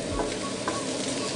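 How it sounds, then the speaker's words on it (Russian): Diced onion and carrot frying in a pan while being stirred, a dense close sizzle with scraping stir strokes through it. "Минут где-то 5 поджарю до золотистого цвета"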